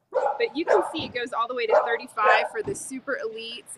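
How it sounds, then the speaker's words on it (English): Dogs barking outdoors in the Vail Valley as competitors get ready for a dock diving competition. Short yips and barks come from behind someone talking, partly masked by his voice. "You can hear a few of the competitors that are getting geared up behind me, a few morning barks"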